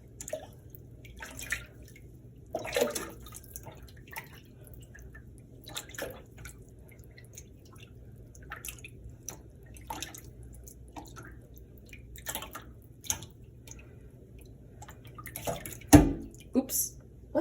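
Water being dumped and swirled for an ambience recording, heard as faint scattered splashes, drips and sloshes in a quiet room, with a louder splash near the end.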